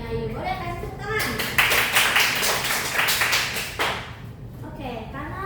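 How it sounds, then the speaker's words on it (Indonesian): Classroom applause, a short burst of clapping from students that rises after a second, stays lively for about three seconds and then dies away, with voices heard before and after it. "Boleh kasih tepuk tangan?"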